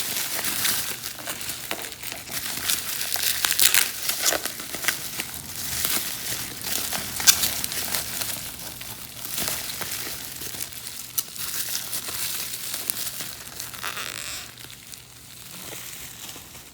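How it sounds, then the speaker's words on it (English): A mail package sealed with scotch tape being pulled apart, close crinkling, crumpling and tearing of paper and tape in irregular bursts for several seconds, with no speech. "it looks like I've got some scotch tape, so this shouldn't be too hard to pull apart."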